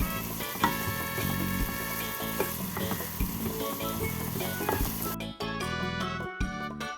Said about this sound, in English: Next goes in few curry leaves.